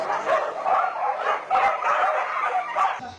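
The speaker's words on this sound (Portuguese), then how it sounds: "Chama os cachorros, Leandro!" Dogs bark repeatedly nearby in quick, uneven bursts of yelps and yips, several barks overlapping through the whole stretch.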